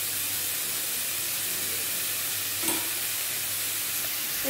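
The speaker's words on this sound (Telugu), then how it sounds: "ఉల్లిపాయ ఎగుతుంది" Onion pieces fry steadily in a pan with a soft, continuous sizzle and hiss, fairly quiet throughout, with one brief clatter of stirring near the middle.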